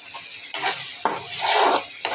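Tomatoes and green chillies are stirred into a frying spice paste for a tilapia curry, with loud, close spatula scrapes and a bright hissing sizzle that swells and fades between strokes.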